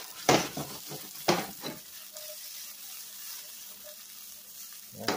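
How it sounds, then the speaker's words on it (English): Peppers for shrimp fajitas hiss and sizzle softly in a frying pan, broken by a few sharp scrapes and clinks of stirring near the start and end. "Peppers are cooking up nicely."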